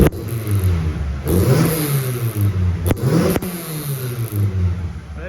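A DD 99 coupe's engine with stock cams, revved in neutral, rising and falling through several strong throttle blips over a steady idle, loud and close.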